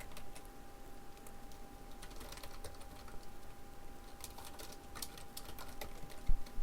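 Rapid keystrokes clatter on a computer keyboard while text is entered, a steady quiet run of close clicks with a few louder taps near the end.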